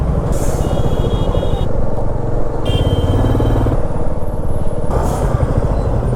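Heavy, jammed road traffic on a bad stretch near a railway crossing, heard from a motorbike on a Siliguri to Kolkata ride, with a loud continuous engine rumble of motorcycles and trucks and occasional brief hiss-like bursts.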